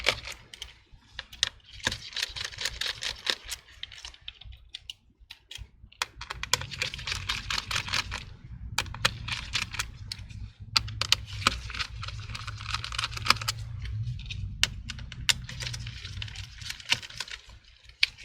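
Screws come out of an HP Envy x360 laptop under a Phillips screwdriver, heard as close, quick clusters of small ticking clicks and scrapes with short pauses between bursts and no talking.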